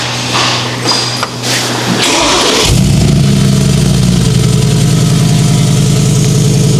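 Tuned Mercedes G63 AMG engine cranks, fires up and settles into a loud, deep rumbling idle with a brief rev, heard close and on its own.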